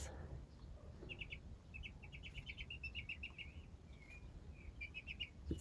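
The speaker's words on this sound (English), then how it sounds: "It's the little one, I think, that's making all the noise now, little chirping noises" Baby chicks chirping indoors, faint high peeping calls in short repeated bursts over a low background rumble.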